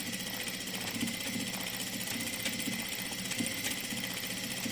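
A sewing machine stitching back and forth over fabric seams to reinforce them, a steady fast mechanical whirring and clatter running throughout at moderate level.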